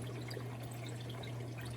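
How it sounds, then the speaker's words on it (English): Water from a hot tub waterfall feature runs after the diverter valve is opened, a faint, steady trickling and splashing over a constant low pump hum. "If you turn on the valve, the waterfall will turn up"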